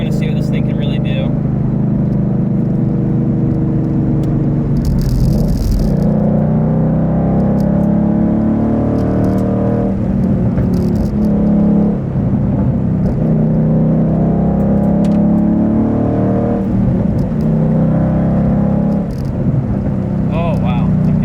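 A Ford Mustang Boss 302 track car accelerates hard with a loud, sustained engine roar that rises and falls through gear changes, close and dominant throughout.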